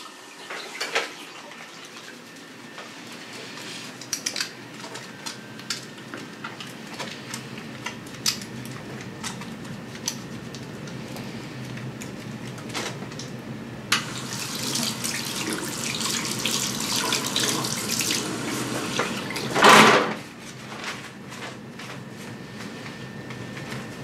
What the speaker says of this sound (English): During this time, I'm going to perform my hand hygiene.